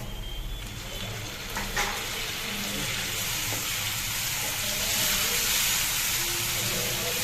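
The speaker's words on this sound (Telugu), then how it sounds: "ఉల్లిపాయలు వేగాయండి, టమాటా వేస్తున్నాను." Tomatoes go into a pan of frying onions, raising a steady, close sizzle with light stirring scrapes, growing slightly louder toward the end, with no talking.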